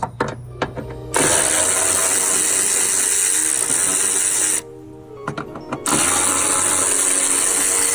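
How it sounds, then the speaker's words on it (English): A socket wrench on an extension ratchets a bracket loose on a 1998 Chevy S10 engine bay, steady close clicking running for long stretches with brief pauses and a few sharp taps between bursts. "I can stick my socket with my extension in there to get this bracket off"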